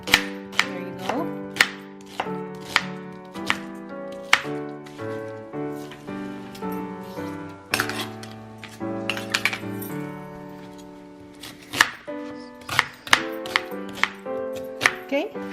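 A knife chops food thinly on a cutting board for a sausage and potato hash, in a quick irregular run of crisp chops heard close up beneath steady background music.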